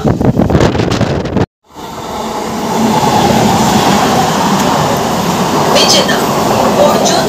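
A Howrah to Digha local train, number 38301, rumbles steadily along the rails with wind buffeting the microphone, broken by a brief dropout before the continuous rolling noise resumes and persists to the end.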